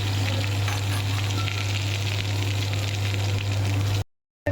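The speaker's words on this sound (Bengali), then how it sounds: "এগুলো এবার আস্তে আস্তে ভাজা হবে" Potato, papaya and raw banana pieces fry in hot oil with five-spice, making a constant, dense sizzle over a low steady hum before cutting out abruptly near the end.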